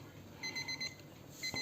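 A Seiko alarm clock's alarm sounds in short repeated electronic beeps, four quick pulses followed by a pause and another pair, moderately loud against a quiet room.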